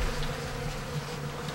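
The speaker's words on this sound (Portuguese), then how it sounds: "eu acredito que tem mais de 100 mil abelhas" A steady, dense buzzing from a colony of more than 100,000 bees kept in a box hive, heard close up and continuous throughout with no voices.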